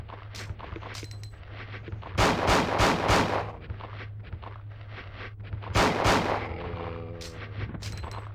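Several loud revolver shots from the six-shooter in Resident Evil 2 on the Nintendo 64, in two bursts of sharp cracks over a steady low game hum, with quieter clicks and steps between them.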